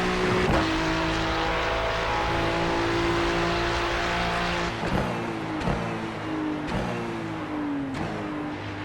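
Race car engines in the iRacing simulation at Road Atlanta drone loudly and steadily throughout. The pitch rises and falls as the cars shift and rev, with several sharp gear-change blips and no talking.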